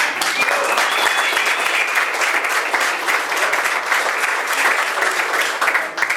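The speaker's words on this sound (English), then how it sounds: "let's give you a round of applause" An audience applauds at the opening of a park firehouse, giving steady, dense clapping that stays loud and even throughout.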